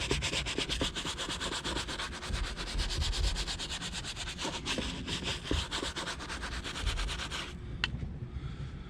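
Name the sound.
scrubbing vinyl with Chemical Guys interior cleaner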